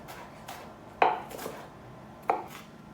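A knife chopping onion on a cutting board: a few sparse, sharp chops with soft scraping between them, close up and with no one talking.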